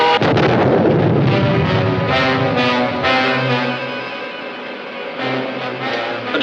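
Sci-fi ray gun blast and explosion effect from a 1950s Commando Cody film serial: a loud, sustained roaring burst that rumbles on for several seconds with a lower droning tone underneath, fading slightly toward the end.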